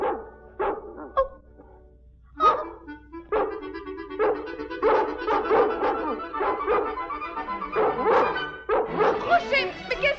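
Labrador dogs barking in an animated film, a rapid series of loud, close barks and yips with some whimpering, over a quiet background.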